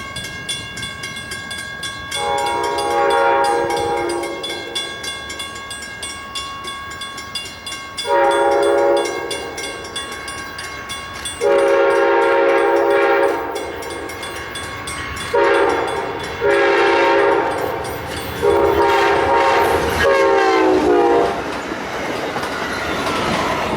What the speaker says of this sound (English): we see Amtrak 476 making track speed over Mactown Road in Windsor